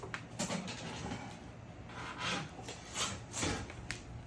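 A small scrub brush rasps back and forth inside a countertop ice maker during cleaning, in uneven close-up strokes with several louder bursts of scrubbing.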